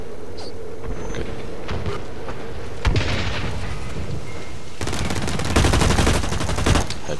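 Game gunfire from the shooter Blacklight Retribution, with sharp shots and bursts standing out over a steady noisy bed. One burst comes near the three-second mark, and a denser, louder volley runs from about five to seven seconds.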